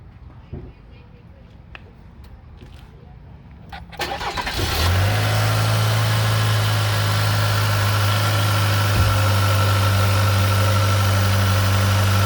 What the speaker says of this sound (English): we're gonna turn this on, turn the truck on, and see how fast it fills this up